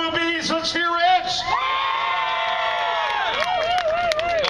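Crowd at a live band show at a bar, cheering, whooping and screaming loudly and continuously, with a high shrill scream rising and wavering over the noise.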